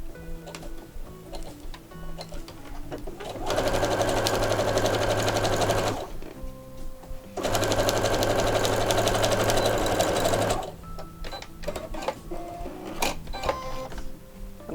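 A sewing machine runs in two sustained bursts of steady, rapid stitching, each lasting about three seconds, as strips of fabric scraps are sewn into a small pouch. Quieter handling clicks and fabric movement fill the gaps between the bursts.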